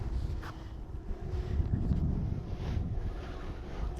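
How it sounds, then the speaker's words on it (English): Steady wind buffets the microphone while out on a kayak fishing from the water, a continuous low rumbling roar with gusts that swell and ease throughout. "Wind is really moving me around here."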